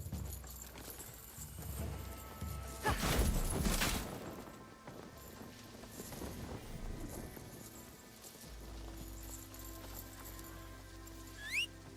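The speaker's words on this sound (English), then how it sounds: "This is just a horse." Horse in the video game Assassin's Creed Shadows, with soft clip-clop hoofbeats and a loud burst of galloping movement early on, over a steady game music bed, no talk.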